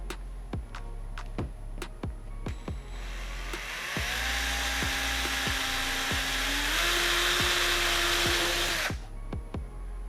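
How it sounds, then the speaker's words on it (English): A power drill whines steadily for several seconds at close range, drilling a hole through the top of a helmet, its pitch shifting slightly mid-run, bracketed by quick clicking sounds before and after. "I'm going to drill a hole in the top here for the speaker wire and the microphone wire"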